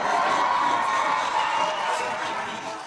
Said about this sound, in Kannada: ಬಲಿ ಜೋಡಿಗೆ ಜೋರದ ಚಪ್ಪಾಳೆ.